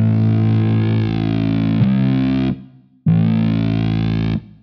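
Two long, loud distorted guitar amp drones with extra reverb layered on top, each sustained for a couple of seconds before cutting off, a short gap of fading tail between them.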